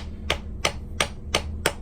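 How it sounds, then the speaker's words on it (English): A nylon hammer strikes a coin ring on a steel mandrel five times in an even rhythm. Each strike is a sharp, close tap with a short metallic ring. "But right now I have a nylon hammer, so that's what I use"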